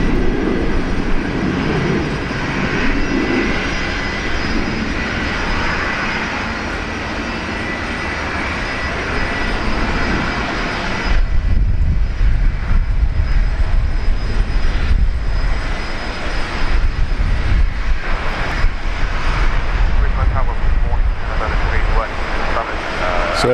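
A heavy jet landing at Brisbane Airport on runway 19 left, its broad engine roar loud and steady before thinning to a lower rumble partway through, with occasional voices over it.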